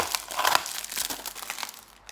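Close-up crinkling and tearing as heavy, sticky tape and plastic wrapping are pulled off an amulet package, a busy stream of rustles and rips.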